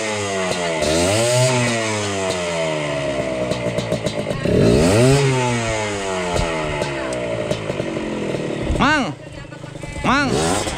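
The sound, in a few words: wood-cutting machine, likely a chainsaw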